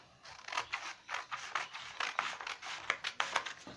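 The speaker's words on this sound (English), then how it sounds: "so now we've cut out the rectangle" Scissors snip through a paper rectangle for a homemade nose mask, a steady series of crisp close-up cuts repeating about every third of a second, quiet and alone.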